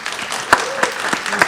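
A crowd claps together in a steady patter of applause, with a few louder sharp claps standing out.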